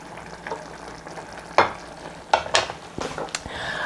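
Curry mixture cooking in a pan, simmering and sizzling softly at close range while a utensil scrapes and stirs through it in a few distinct strokes.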